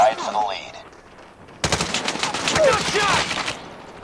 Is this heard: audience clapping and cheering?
no